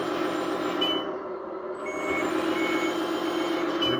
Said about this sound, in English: It does have the reverse beeper